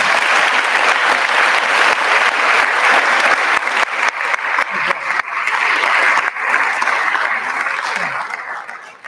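A lecture-hall audience at a college lecture series applauds students, giving sustained, loud, dense clapping that continues for the whole stretch and tapers only slightly at the end.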